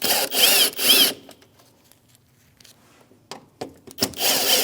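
A power tool removing screws from the plastic trim of a Chevrolet Malibu during a daytime running lamp assembly replacement: two loud close bursts of whirring, a quiet pause with light handling clicks, then another short whir.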